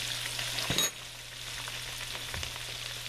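Floured pork sirloin chops laid into hot fat in a skillet, a brief burst as the meat hits the pan followed by a steady close sizzle and crackle.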